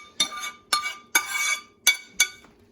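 A utensil clinks against a bowl while stirring ramen with egg, five sharp, bright taps spaced out over a few seconds, one slightly longer scraping clink in the middle, close and fairly quiet.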